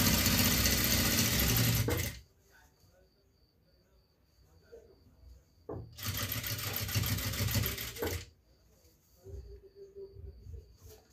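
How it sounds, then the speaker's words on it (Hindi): Sewing machine stitching piping onto a blouse, running in two loud continuous bursts near the start and middle with quiet handling pauses between, plus a softer whirr near the end. "ऐसे रखते जाएंगे और सिलाई को चलाते जाएंगे।"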